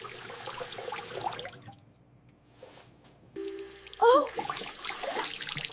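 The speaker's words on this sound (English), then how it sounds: "The water is flowing quickly." Cold water runs from a kitchen tap into a sink full of dishes, a steady close splashing that drops away partway through, then returns with a brief squeaky sound before flowing on.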